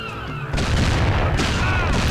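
A sudden loud burst of gunfire in the video game Mafia on PS2, with booming blasts continuing in a rough, dense volley for a couple of seconds.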